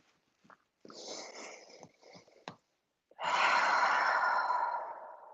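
A person doing yoga takes audible breaths, a few short soft inhales and sighs followed by one long, loud, airy exhale that slowly fades.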